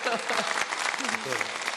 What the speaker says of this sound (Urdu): ان کو کہ ہم ان کے لیے تالیاں بجا رہے ہیں